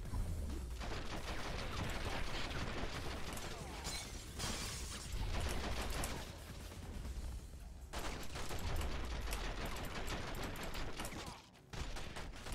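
Rapid gunfire rattles through a fight in the video game The Matrix: Path of Neo, continuous bursts of shots mixed with shattering and crashing impacts, loud and dense with only brief pauses.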